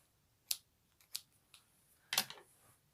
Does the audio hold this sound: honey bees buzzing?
no